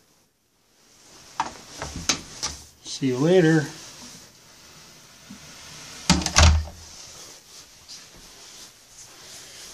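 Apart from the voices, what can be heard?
door closing and locking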